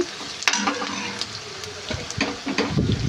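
Food sizzles steadily in a hot pan as ingredients for an egg and prawn curry fry red, with occasional scraping and stirring clatter over the continuous crackling fry.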